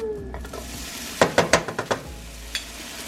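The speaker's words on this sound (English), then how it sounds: "to this butter, we're going to add some minced garlic" Minced garlic sizzles in melted butter in a pan, with a quick burst of several sharp stirring scrapes and clicks near the middle and a softer one toward the end, close and fairly loud.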